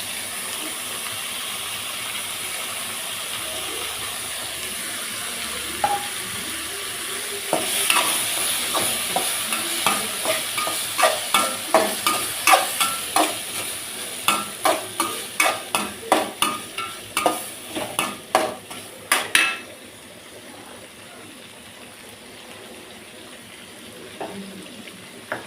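Chilli masala paste is stirred and fried in a pan, soft sizzling giving way to a quick run of sharp spoon scrapes and clinks, then a steady hiss.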